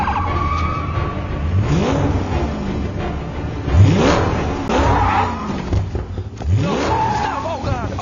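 A toy police car's siren and engine sound effect plays loudly with a rising and falling wail and revving swoops repeating several times, mixed with voices.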